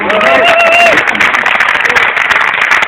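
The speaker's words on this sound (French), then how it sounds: "Voilà, on peut applaudir" A crowd applauding steadily, dense clapping filling the whole moment, with a brief whistle or cheer early on.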